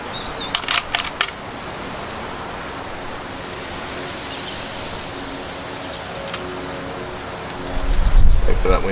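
Wind sweeps across an outdoor airgun shooting range in a steady, breathy hiss, with a few sharp clicks early on and a louder low gust buffeting the microphone near the end.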